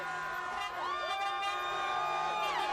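Crowds fill American streets on the night of September 11, 2001, a dense mass of shouting and cheering voices heard close and loud, with rising and falling tonal sweeps throughout.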